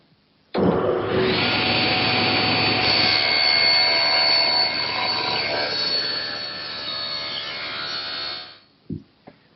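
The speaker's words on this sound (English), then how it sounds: "I've tilted the table saw blade to 30 degrees and adjusted the rip fence for the correct height" Table saw with its blade tilted to 30 degrees for a bevel cut in plywood, spinning up with a loud roar, holding a steady whining cut for several seconds, then winding down with a few knocks.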